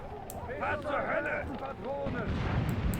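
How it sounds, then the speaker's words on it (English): Mortar rounds exploding near a church in the Graviteam Tactics war game, a few dull distant booms under a busy battle soundscape, with a voice talking over them. "we are definitely dropping mortar rounds near the church"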